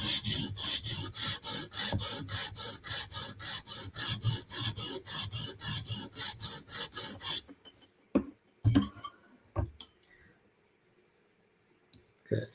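Ruike flipper and CRKT M16 knife blades are stroked on a TSProf Kadet sharpener in a fast, steady run of about two dozen rasping passes, followed by a few quieter clicks and handling sounds.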